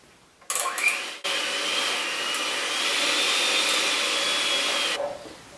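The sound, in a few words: electric mixer mixing pound cake batter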